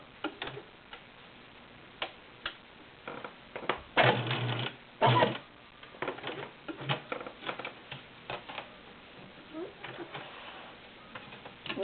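A Viking Husqvarna Selectronic 6570 sewing machine stitching at full speed, a quiet steady ticking run with a louder, denser stretch of clatter in the middle, heard close with no talking.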